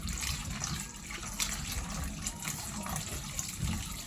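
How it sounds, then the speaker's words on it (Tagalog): Tap water runs steadily into a container to soak string beans in a home kitchen, a continuous gushing splash at moderate level with no talk over it. "Lagyan na natin ng tubig para sure na"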